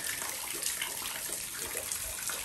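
Water trickles and splashes steadily down a small waterfall at Viney Creek, a continuous close, even rush with no voices.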